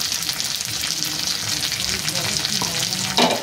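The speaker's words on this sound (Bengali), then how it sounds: "এবার মশলাটা সুন্দর করে কষিয়ে দেবো" Turmeric and chili powder fry in oil while being stirred for a stuffed pointed gourd curry, with a continuous close sizzle over steady scraping strokes and one louder scrape near the end.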